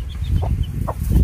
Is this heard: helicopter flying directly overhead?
no